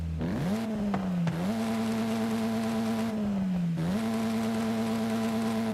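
A modified hatchback's engine in Forza Horizon 5 revs loud and close, climbing in pitch, holding a steady high whine, dipping briefly, then rising and sustaining again, with no talk over it.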